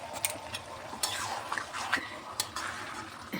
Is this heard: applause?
no